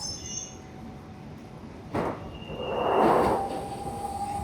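A London Underground Central Line train arrives at the platform with a rumbling roll, a sharp clank partway through and a rising squeal of wheels and brakes, over steady station noise.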